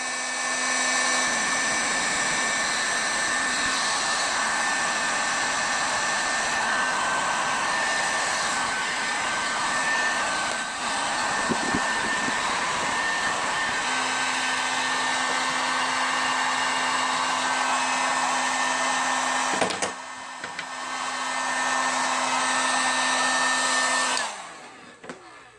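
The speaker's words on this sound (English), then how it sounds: "I meant hot gun, heat gun, not glue gun." Steady loud whirring roar of a heat gun shrinking heat shrink tubing on circuit wiring, running continuously with a brief dip and a short cut near the end.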